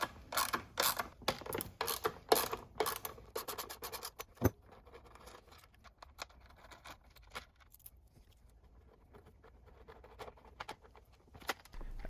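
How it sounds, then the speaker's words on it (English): Ratchet and socket work removing a 10mm bolt from the pull start assembly on a Honda EU2000i generator, brisk metallic scratching and clicking in the first few seconds, then faint scattered handling noises, no voices. "Opening this rubber cap exposes the third 10mm bolt that will be removed to remove the pull start assembly."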